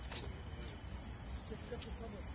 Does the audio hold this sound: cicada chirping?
yes